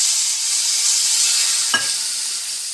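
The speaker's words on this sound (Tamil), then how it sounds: "இப்போ கொஞ்சம் தண்ணி ஊற்றிக்கிட்டேன்." Sautéed mochai beans, onions and mutton masala powder hiss in a pan after water is poured in, giving a steady close sizzle with one brief clink near the end.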